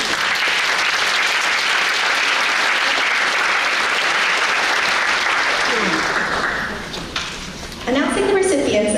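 Audience at a scholarship award ceremony breaks into loud, sustained applause that fades near the end as a voice begins speaking over the hall.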